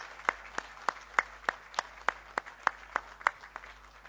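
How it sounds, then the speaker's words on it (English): Applause at a commission of inquiry hearing comes as slow, evenly spaced single claps, about three per second, crisp and fairly close in a quiet room, as if only a few people are clapping. "I think we can possibly give him a round of applause for his real good family"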